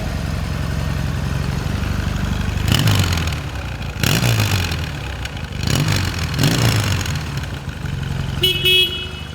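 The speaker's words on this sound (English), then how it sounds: "Exhaust note on this thing in the back" A 1979 Yamaha XS650 motorcycle engine idles and rumbles low, with several revving bursts swelling and falling back, ending in a brief higher-pitched tone.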